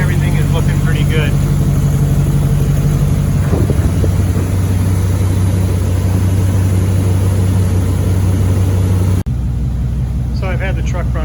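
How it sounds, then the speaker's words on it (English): A 1999 Dodge pickup's engine idles steadily in a shop after rear main seal work, producing a constant low rumble throughout, with a faint voice over it and a brief dropout near the end. "I've had the truck running for about 5 minutes sitting here."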